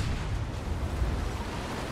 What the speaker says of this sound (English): Why is everything exploding?